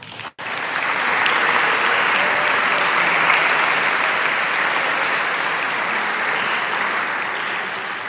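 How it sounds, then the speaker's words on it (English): An audience at a sports awards ceremony gives a long round of applause, dense and steady clapping that starts abruptly, holds for several seconds and tapers slightly at the end, with no speech. "Please join me in a round of applause"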